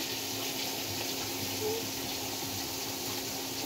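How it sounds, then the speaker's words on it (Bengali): A pot of bean seeds boils steadily, giving a continuous, even rushing hiss of bubbling water, fairly quiet and uninterrupted, with no talking. "শিমের বিচি দিয়ে এটা ফুটিয়ে ভালোভাবে সেদ্ধ করে নিচ্ছি"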